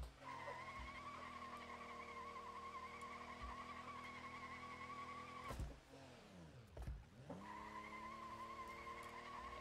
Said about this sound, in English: so Grandpa's work truck can do a burnout